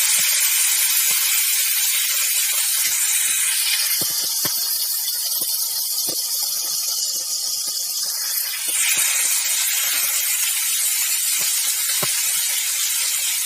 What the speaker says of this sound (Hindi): हरी मिर्च थोड़ी क्रैकल करती है, एकदम से खटकती है